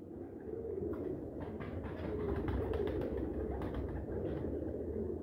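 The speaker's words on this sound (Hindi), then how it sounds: "ये एक दूसरा टैडी कबूतर है, आप पलक इसकी चेक करें, सलारा कबूतर है।" Teddy pigeons of the Salara type cooing in a loft, a steady low murmur of overlapping coos filling the scene, with soft flutters and faint higher chirps throughout, no voices.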